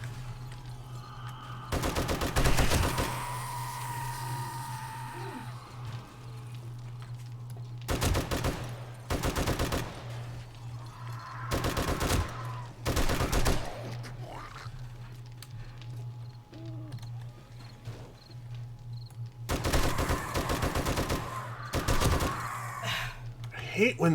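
Gunfire from shooting zombies in the video game 7 Days to Die comes in loud, sharp bursts of rapid shots in several separate volleys, with a low steady hum underneath throughout.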